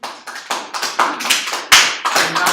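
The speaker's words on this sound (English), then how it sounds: "I got applause." A class of students applauds their math instructor, sparse hand claps coming in uneven bursts, close and fairly loud, with no talking over them.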